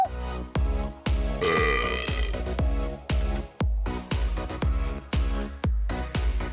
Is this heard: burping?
yes